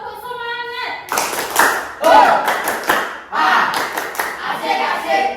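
A group of students in a classroom claps out a rhythmic spirit clap, loud and close, with bursts of clapping and chanted voices after a brief opening tone.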